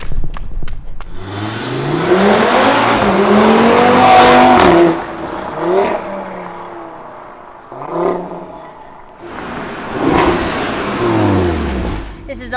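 Audi TT RS fitted with a cold air intake accelerating hard, its engine roaring loudly and rising in pitch through several pulls with brief dips between, close up.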